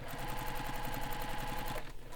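Up close, a sewing machine stitches a Leannan bag along its centre crease toward a line of top stitching, in a quick, even run of stitches that stops abruptly near the end, with no talking.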